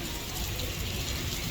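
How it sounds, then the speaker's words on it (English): Heavy rain pours down steadily in the Philippines, a dense, continuous hiss of water striking surfaces close by with no pauses. "Rain, it is pouring down."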